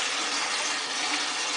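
Water gushing steadily through a natural sausage casing held open while rinsing it for Polish sausage, a continuous close, even rush with no pauses.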